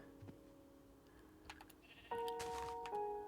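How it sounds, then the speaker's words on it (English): Sheep in the Minecraft video game bleat nearby, with a short bleat early on and a louder, longer bleat later, among soft clicking game sounds. "I don't want to make more sheep. I want to make fewer sheep."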